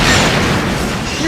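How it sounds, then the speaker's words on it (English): A deep, loud boom from a movie explosion rumbles through the whole moment, a continuous blast-like roar with dense low-end energy and no clear break. "That was a big explosion."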